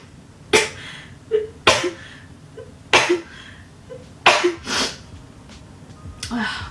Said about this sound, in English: I sneeze a couple times every time.